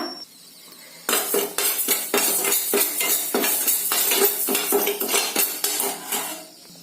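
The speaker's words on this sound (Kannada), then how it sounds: "ಆ ಪಾನ್ಗೆ ಈ ಅಕ್ಕಿನ ಹಾಕೊಂಡಿದ್ದೀನಿ ಚೆನ್ನಾಗಿ ಫ್ರೈ ಮಾಡ್ಕೊಳ್ಳೋಣ" Rice dry-frying in a pan for a village-style lunch, a run of close metallic clinks and scrapes from a spoon against the pan in quick irregular strokes over a faint hiss, starting after a quiet second, no talk.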